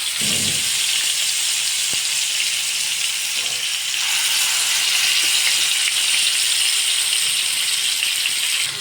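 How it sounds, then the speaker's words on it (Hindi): Marinated tandoori chicken leg pieces shallow fry in hot oil in a pan, a loud, steady, close sizzle that runs unbroken throughout, with a faint clatter near the start. "इसमें एक पीस डालकर शैलो फ्राई कर लेंगे।"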